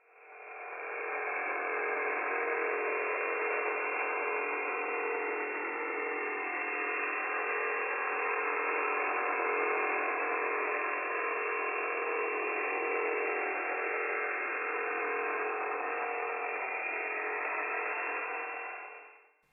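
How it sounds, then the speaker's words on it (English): Jamming interference on the Buzzer shortwave radio frequency gives a continuous band-limited buzzing drone with a faint mechanical ratcheting texture, steady and unbroken for nearly twenty seconds with no voices. "This is an example of the interference on the frequency."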